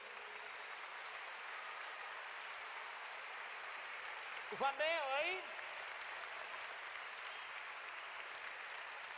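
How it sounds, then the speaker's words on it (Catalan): Steady applause from a crowd at a political rally fills the whole stretch, a dense even patter, with a brief spoken phrase breaking through midway. "Un fort aplaudiment per tots ells."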